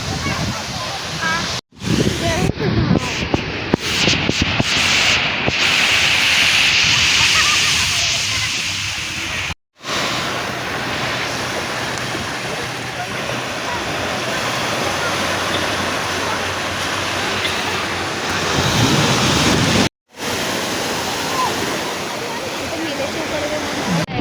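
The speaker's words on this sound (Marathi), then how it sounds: "आता जातोय समुद्राच्या लाटांचा मजा घ्यायला." Sea waves rush and roar on Juhu Beach, Mumbai, in a loud, steady wash, with faint voices early on and a few abrupt cuts.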